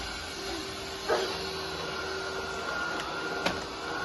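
A vacuum cleaner runs across a home floor with a steady whirring hum, plus a couple of brief knocks as it moves.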